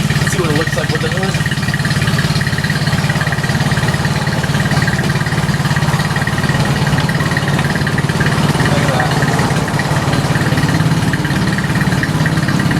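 A boat outboard motor idles steadily and loudly throughout, a constant low rumble with a mechanical hum and no change in pace.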